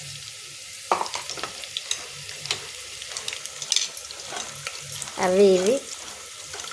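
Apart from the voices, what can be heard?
washing vegetables in water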